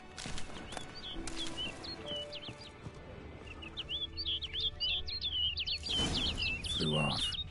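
A bird chirping in The Witcher 3 video game, bursts of bright tweets and trills standing out against ambient game sound, with a denser, louder flurry near the end and a voice briefly underneath.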